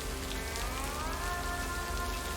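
Rain in the adventure game Lake: steady dense patter of rain on surfaces, close and even, with a faint tonal ambient hum running beneath and no voices.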